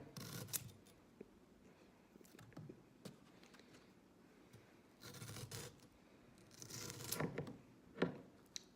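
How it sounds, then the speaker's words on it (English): A serrated knife back saws through peppers during messy food prep with oversized blades, giving a series of rasping, scraping cuts in bursts, with a louder run of strokes near the end. "And just for good measure, I'll use the saw back."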